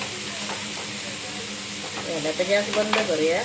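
Boiled potatoes sautéed with spices in a pan give a steady close sizzle and hiss, with stirring scrapes and faint voices toward the end.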